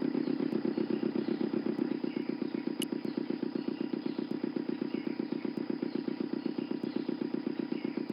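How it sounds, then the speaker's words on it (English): A motor in the Broken Sword II game sputters and chugs at a steady, rapid idle, a close mechanical putter that keeps an even rhythm throughout with no voices over it. "The motor spluttered into life."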